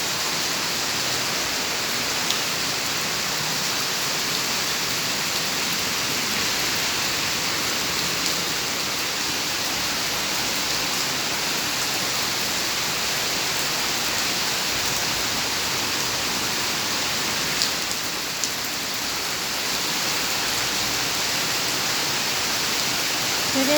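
Heavy rain pouring down in Singapore, a dense, steady hiss of water hitting surfaces that fills the whole stretch without letting up, loud and close, with no voices over it.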